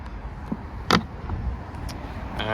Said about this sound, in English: so if we press that, that will unlock the fuel cap